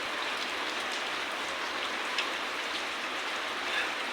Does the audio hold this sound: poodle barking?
no